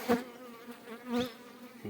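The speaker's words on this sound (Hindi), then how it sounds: "तो यहाँ से मधुमक्खी जो है खुद ही आती रहेगी और अंदर भी जाती रहेगी।" Honey bees buzz around a queen bee gate fitted to a hive, a close droning hum that swells in short bursts as individual bees pass near, with no voices.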